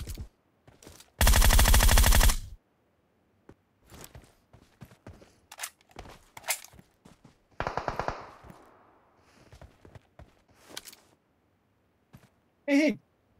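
Gunfire in the mobile battle royale game PUBG Mobile: a loud sustained automatic burst, then scattered single shots and short volleys at varying distances, with a brief sharp rattle near the end and quiet gaps between.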